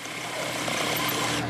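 A power drill runs steadily, boring an anchor into an ICF wall while heavy stone veneer is being attached on a job site, a continuous close grinding whir with no voices over it.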